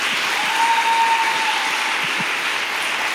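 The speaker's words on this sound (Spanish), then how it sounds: "Denle un fuerte aplauso al Señor." Congregation applause during a church worship gathering, a dense continuous roar of many people clapping at steady volume, with a faint sustained tone running through part of it.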